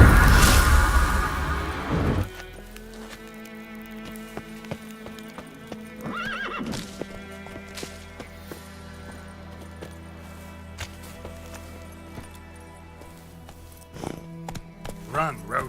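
Roach, a horse in The Witcher 3, gallops with steady clip-clop hoofbeats and lets out whinnies, with a loud burst at the start and game music underneath throughout.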